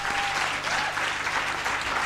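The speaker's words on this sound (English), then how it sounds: "Let's give them a round of applause." A conference audience claps for a panel of speakers at a student work-integrated learning event, dense even applause from a sizable crowd filling the whole moment.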